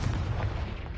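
A Confringo blast spell in Hogwarts Legacy goes off as a single low, muffled boom lasting about a second, without talk.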